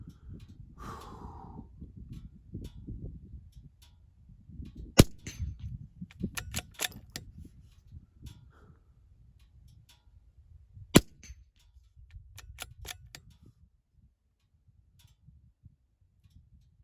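A Ruger Precision Rimfire .22LR rifle fires on a shooting range, with several sharp cracks spread over the stretch, two standing out clearly, plus smaller snaps and soft handling and breathing noise in between.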